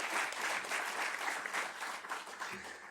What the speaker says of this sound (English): How about a round of applause for our great panelists here?